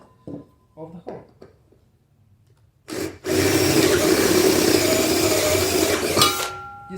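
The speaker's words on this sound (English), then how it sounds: "you make it bigger with another drill bit" A power drill bores into soft aluminum to enlarge a hole, a loud continuous grinding whir lasting about three seconds after brief talk, then cutting off.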